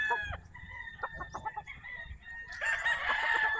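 Gamefarm broodcock roosters crowing loudly nearby, long drawn-out calls rising at the end, while hens cluck in short bursts underneath.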